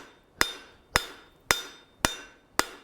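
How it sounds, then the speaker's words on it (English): Hammer blows on an anvil while forging tongs, five evenly spaced, sharp metallic strikes with a brief bright ring after each, close and loud with no talking. "we're just trying to hammer this and compress it straight down"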